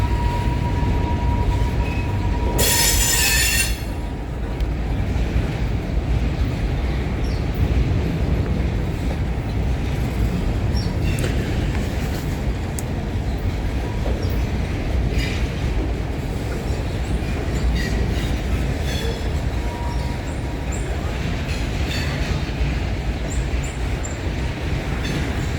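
A long freight train rolls past at Elkhart behind CP locomotive 8757 and an NS unit, its wheels and cars rumbling steadily and loudly, with a brief horn-like burst early and scattered clicks from the rail joints.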